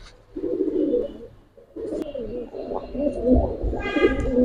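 A Bezi breed pigeon, a male, coos in low, throaty rolling phrases close by, with a short pause between bursts and faint background noise.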